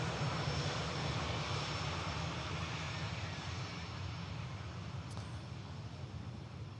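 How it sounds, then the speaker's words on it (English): Boeing 787 Dreamliner in a colourful petal special livery at Manchester Airport, a steady distant engine roar held at a low level throughout. "The Jinyao Dreamliner with the colourful petals special today."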